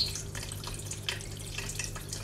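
Water runs steadily from a garden waterfall on a summer veranda among potted bougainvillea, a continuous splashing trickle with small drips, fairly near and heard alone.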